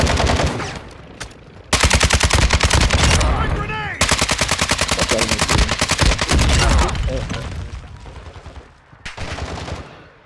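An RPK light machine gun with a drum magazine fires in a video game, with long sustained bursts of rapid, loud automatic fire broken by brief pauses and scattered other gunshots.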